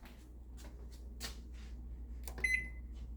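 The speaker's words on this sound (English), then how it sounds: "That's the sound of my microwave." Quiet clicks and soft knocks, then a single short electronic beep from a microwave oven rings out near the end over a low hum.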